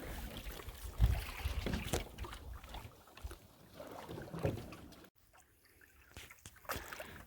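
Paddling a canoe on a lake beside cliffs, soft irregular splashes and drips of paddle strokes in water with faint wind, quiet and close.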